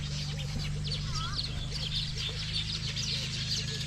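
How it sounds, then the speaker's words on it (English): Birds chirp and call outdoors in a bird-rich spot, with bright scattered calls layered over a steady low hum of background noise. "there's no sound that is being produced here apart from the beautiful sounds of the birds."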